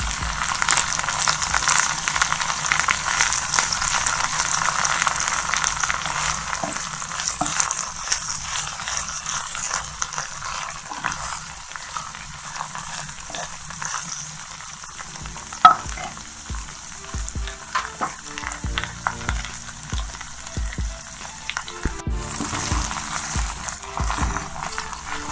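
Okra (bhindi) sizzles and crackles in hot oil in a pan, a continuous frying hiss with occasional stirring scrapes and clinks, steady for most of the stretch.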